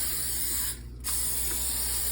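Cooking spray hisses steadily from a can onto small bread loaf pans for banana bread, two loud close bursts separated by a brief pause.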